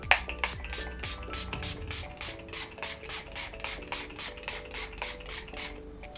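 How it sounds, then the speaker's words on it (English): Cal Setz Makeup Finishing Spray is spritzed onto the face in a rapid, steady series of short hissing bursts, close and moderately loud, over soft background music. "This is the Setz Makeup Finishing Spray."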